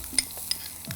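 Small shallots hit hot oil for tempering and sizzle faintly in a pan, with soft stirring scrapes and a couple of brief sharp crackles over about a second.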